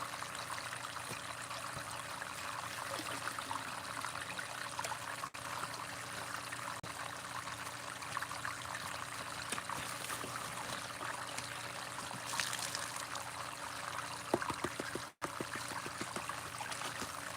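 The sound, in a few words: fresh water pouring while processing gold material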